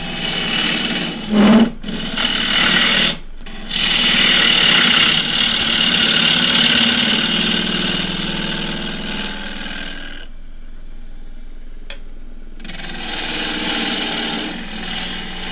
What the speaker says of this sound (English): I've got the bowl gouge in my hand, so I might as well use it, I suppose. Speed comes up a bit.